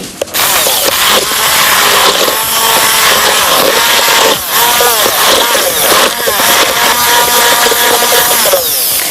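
A blender runs loudly and continuously, grinding celery leaves, seasoning and egg into a mixture for onion stick cookies, a steady high whirring motor with slight changes in pitch.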